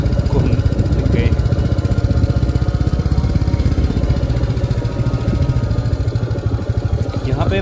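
Royal Enfield Meteor 350 motorcycle coasting downhill in first gear without throttle on a narrow village hill road near Nainital, its steady single-cylinder thump loud and close throughout with engine-braking rumble.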